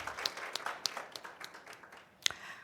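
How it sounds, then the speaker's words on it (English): Sparse clapping at the 2023 ABSIP Women In Focus summit, a scattering of separate hand claps with uneven spacing, fairly faint and thin rather than a full ovation. "So please give a round of applause for Nomonde."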